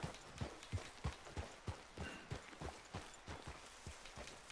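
Horse hooves clip-clop at a steady walking pace in Red Dead Redemption 2, about a dozen evenly spaced thuds over rough ambient noise, quiet and without talk.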